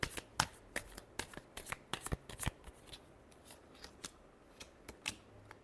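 Tarot cards are shuffled close to the listener, producing crisp, quiet clusters of snapping card clicks in irregular bursts with short pauses between them and no voices.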